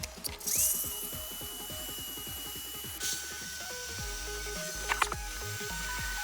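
Old PVC pipe being cut with a power tool, a steady close whirring motor with rapid repetitive grinding pulses and a sharp squeal partway through.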